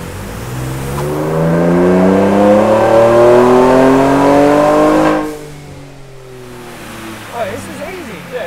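A car engine on a dyno is held at full throttle, its revs climbing steadily for about four seconds in a loud rising drone, then it cuts back to a low idle with faint voices talking.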